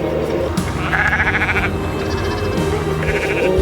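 Sheep bleat repeatedly at close range in the remote Scottish Highlands, several overlapping calls rising over a steady outdoor rumble.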